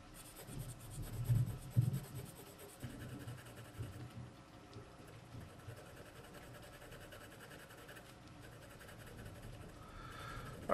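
A Nataraj B pencil scratches across paper in a soft, continuous, close-up scribbling rasp with irregular strokes and a few louder bursts, with no talking.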